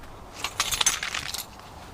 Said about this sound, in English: Oops, wrong keys. Those are my car keys.